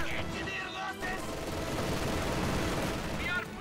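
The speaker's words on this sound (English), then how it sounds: "they're going to walk right into an MG42 down here" MG42 machine gun in Company of Heroes, sustained rapid gunfire and a battlefield din under a commentator's voice, with a few bursts standing out near the start and end.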